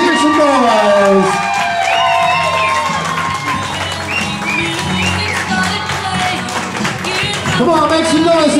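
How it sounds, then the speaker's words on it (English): Wedding guests cheer, clap and whoop for the newly married bride and groom, a loud, continuous crowd roar with applause throughout, while voices shout and talk over the noise. "Give them a great big round of applause."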